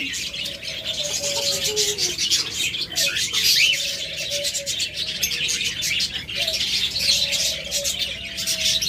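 A pair of cockatiels, a breeding pair with eggs, call busily in an aviary as they hop out for freshly given food, with dense chirping throughout and repeated whistled calls standing out near the birds.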